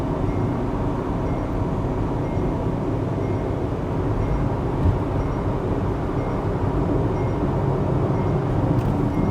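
Diesel engine of an MG Hector Plus manual accelerating hard in fourth gear toward about 4500 RPM on a highway, a loud, continuous low rumble with steady road and wind noise heard from inside the cabin.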